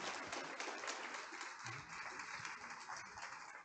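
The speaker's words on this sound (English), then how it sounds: "let's give Dr. Jeanne Middleton Hairston and Dr. Orey a round of applause" An audience claps after a lunchtime history lecture on Mississippi, the applause soft and somewhat distant, a brief even patter that fades at the end.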